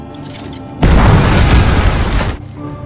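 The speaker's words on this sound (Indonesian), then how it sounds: "dia kemudian mengaktifkan bom yang dia pasang jika terjadi keadaan darurat dan membuat kapalnya meledak" A bomb blows up a boat in a film, a sudden loud boom that roars for over a second and a half before cutting off, with quieter soundtrack music before and after.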